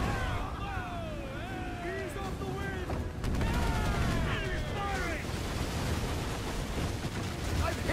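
Naval gunfire exchange in Assassin's Creed IV Black Flag: heavy cannon and gun blasts thud repeatedly amid whistling shots and clanking mechanisms, with a loud dense rumble throughout and a player talking over the battle.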